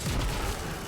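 An explosive in the vehicle combat game Crossout detonates on contact, a short loud deep boom with a rumbling tail filling under a second.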